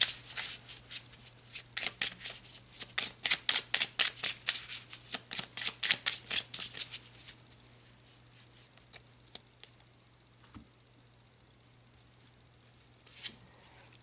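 Oracle cards are shuffled close by in a rapid run of crisp riffling flutters for about seven seconds, then the sound thins to occasional soft rubs and taps before one last brief shuffle.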